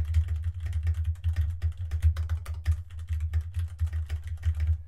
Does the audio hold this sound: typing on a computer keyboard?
yes